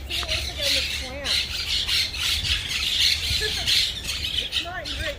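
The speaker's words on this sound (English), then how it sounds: "They have Brooklyn parrots up there." Brooklyn parrots squawk repeatedly at a facility, harsh bursts coming close and loud over rustling and steady background noise, with a voice talking at times.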